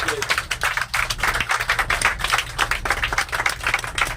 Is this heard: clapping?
yes